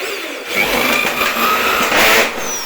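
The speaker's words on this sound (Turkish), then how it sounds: "Böyle bastırarak vidaları atıyoruz arkadaşlar." A power drill whirs in close bursts, its motor pitch rising and falling as screws are driven in with pressure, with short pauses between runs.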